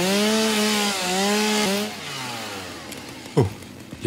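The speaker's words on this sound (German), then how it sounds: "Ich will die Säge." Chainsaw in the factory-building game Satisfactory cuts loudly with a steady buzzing whine that dips once, then winds down and stops, followed by a couple of short clunks.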